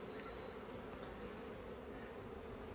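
Honey bees swarm over a piece of burr comb taken from a hive, making a continuous, even, low buzzing drone at a quiet level, with no speech.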